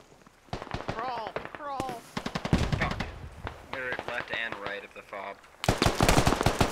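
Rapid bursts of automatic gunfire from the Squad video game ring out over a player talking through the firefight. Loud, dense volleys come at the start and return near the end.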